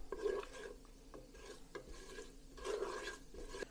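Cumin seeds and cinnamon sizzle in a pan, heard close but fairly quiet as a soft crackle with scraping stirring strokes that swell and fade in uneven bursts.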